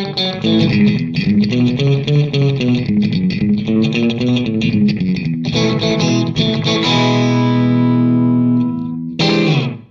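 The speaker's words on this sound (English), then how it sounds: "So here's a good setting for a short slapback echo." Guitar played through a pedal set for a short slapback echo, with the repeat at about two or three and the mix turned up high: distorted chords and single notes followed by a long ringing chord, then a brief restart.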